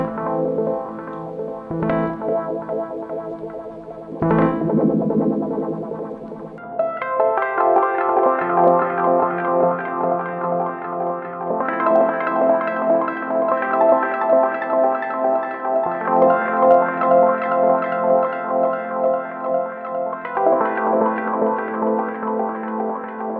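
Phase Plant synth presets from the Kilohertz Polychrome pack play as evolving layered tones with a few sharp hits early on, then sustained shifting chords with echoing, drifting delays, loud and unaccompanied.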